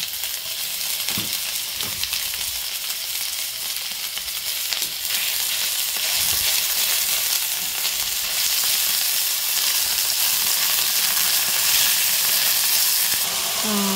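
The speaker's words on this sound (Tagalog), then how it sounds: "I'm gonna add on the ground beef" Ground beef frying in a pan with okra, a loud steady sizzle and hiss up close with occasional stirring scrapes throughout.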